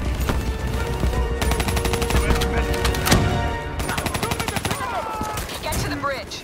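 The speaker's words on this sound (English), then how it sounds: "Give me some cover fire." Rapid automatic gunfire rattles in Call of Duty: Black Ops III, dense bursts of shots over a battle din, with voices speaking amid the fighting.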